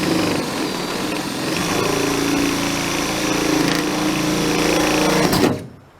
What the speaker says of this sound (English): now I'm gonna have to drill a much larger hole right there from the outside